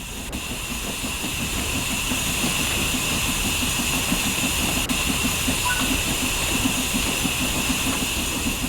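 Steam locomotive running in the Train Sim World 3 game, a steady rhythmic chuff pulsing over a continuous hiss of steam, loud and close throughout with no talk.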